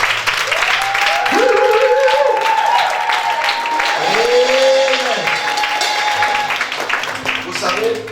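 A church congregation at a Sunday service applauds and cheers in a steady wash while a singing or shouting voice rises over it, loud and close, with the crowd noise continuing to the end.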